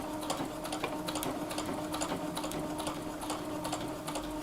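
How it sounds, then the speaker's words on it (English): A sewing machine runs steadily while quilting chalk-marked lines half an inch apart across a tote purse's front pocket, a continuous close mechanical whir with rapid stitching pulses and no voices. "I'm finishing up step 1, which is quilting the front pocket."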